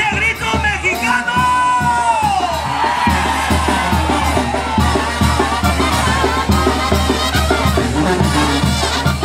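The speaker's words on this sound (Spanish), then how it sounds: "¿Y dónde está ese pinche grito mexicano?" Crowd at a banda music concert in Toyota Park, Chicago, letting out loud whoops and yells over a pounding band with steady bass thumps, the shouting mixed with music throughout.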